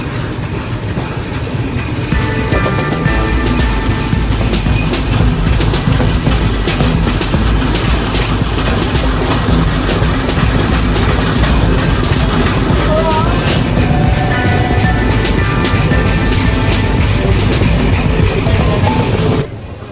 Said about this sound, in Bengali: আমাদের ট্রেন এখন ডিপার্চার নিল সাঁতরাগাছি